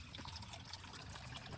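Water poured over piglets to bathe them, a faint continuous splashing trickle with small gushes, close but quiet, lasting under two seconds without talking.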